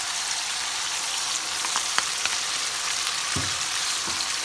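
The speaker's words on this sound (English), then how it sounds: "So while the chicken is being stir frying" Chicken stir-frying in a pan for biryani gives a steady, close hiss of sizzling oil, with a few soft scrapes and taps from stirring and no talking.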